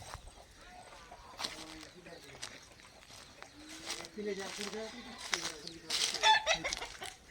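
Chickens cluck and murmur close by, short rising notes scattered through the clip, with people talking over them and some rustling.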